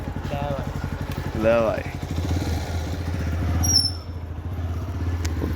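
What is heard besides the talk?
motorcycle engine running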